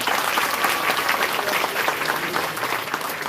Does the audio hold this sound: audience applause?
yes